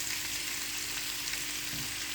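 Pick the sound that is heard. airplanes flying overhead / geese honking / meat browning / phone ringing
meat browning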